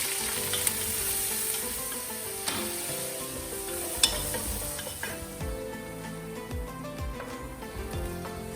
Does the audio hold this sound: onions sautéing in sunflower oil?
yes